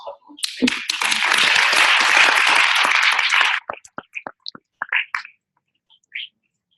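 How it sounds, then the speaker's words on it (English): Audience applause at a live ASEA presentation in Tarrytown, NY: a dense burst of clapping that swells quickly, holds for about three seconds, then breaks into a few scattered, isolated claps before fading out. "We have a big round of applause"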